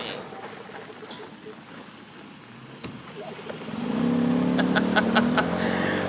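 A car approaches and passes nearby on a street, a low engine rumble that swells and stays loud over the final seconds, with faint clicks and background noise.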